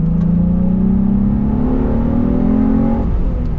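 Car engine revving while driving, pitch rising smoothly for about three seconds before dropping off at a gear change, loud and close from inside the cabin, no talk.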